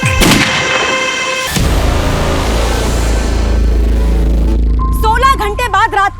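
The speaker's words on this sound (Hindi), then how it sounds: "रात को 2 बजे फिर गोली की आवाज आई है।" A loud, close gunshot cracks out at night, followed by a long rumbling boom and lingering low roar, with a burst of dramatic electronic tones near the end.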